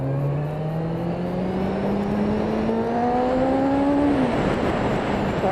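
A Honda CB400 motorcycle engine with VTEC revving upward, its tone climbing steadily for about four seconds before dropping abruptly, with layered harmonic whine and a rising hiss; loud and close, no talking.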